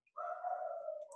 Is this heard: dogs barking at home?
yes